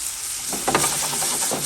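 Chicken for lettuce wraps sizzles steadily in a hot pan, a continuous frying hiss broken by a few brief stirring scrapes, close and fairly loud with no voices.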